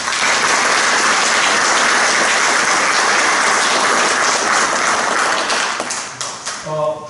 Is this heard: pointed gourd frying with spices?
no